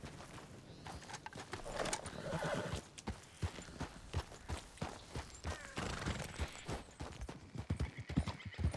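Horse hooves clip-clop at a steady trot while riding in Red Dead Redemption 2, with a horse neighing and faint distant gunfire in the background.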